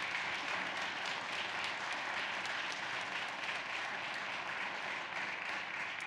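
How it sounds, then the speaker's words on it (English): A rally crowd at a Nevada women's sports event applauds legislators, with sustained, even clapping from many hands filling the whole stretch at a consistent level. "Please give them a nice round of applause"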